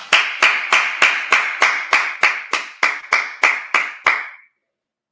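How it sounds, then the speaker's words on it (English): A group claps hands in unison at a class gathering, about a dozen sharp, evenly spaced claps in a steady rhythm that stop abruptly, followed by a brief silence. "let's clap it up"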